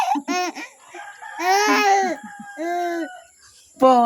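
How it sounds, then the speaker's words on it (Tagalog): A chicken or rooster calls near a boat with loud, drawn-out crowing cries, several in a row with short pauses, sounding close. "Bird."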